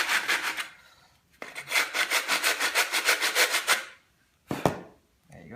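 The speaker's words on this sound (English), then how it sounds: "maybe I should sand off this side first" Wood on a model airplane wing is sanded by hand: a rough rasping burst, a pause, then a run of a dozen rhythmic back-and-forth strokes, loud and close, followed by a single short scrape.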